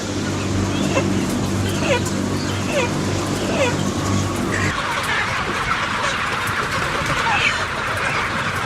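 Chickens cluck in scattered short calls over a steady low hum and crowd-like background noise, with the hum dropping away halfway through.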